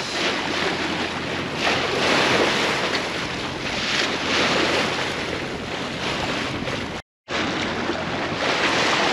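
Choppy waves slap around a sailboat motoring through a reef pass, with a constant rush of water and wind buffeting the microphone and a brief dropout partway through.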